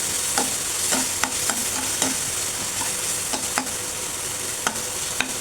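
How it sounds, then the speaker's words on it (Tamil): Ginger garlic paste is stir-fried in a pan, a bright steady sizzle broken by repeated sharp spatula scrapes and taps at an uneven, brisk rhythm. "இஞ்சி பூண்டு பேஸ்ட் வந்து பச்சை வாசனை போகிற வரைக்கும் வதக்குவோம்."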